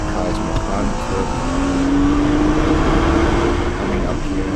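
A Nissan GT-R engine holds third gear through the Nürburgring carousel, a loud, steady drone that climbs slowly in pitch as the car accelerates, with someone talking over it.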